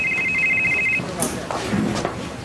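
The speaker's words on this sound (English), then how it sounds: "Answer your phone." A telephone rings with a rapid electronic trill lasting about one second, followed by a short burst of indoor talk in a quiet room.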